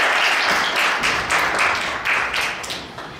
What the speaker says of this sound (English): Please give Janan Rove another round of applause.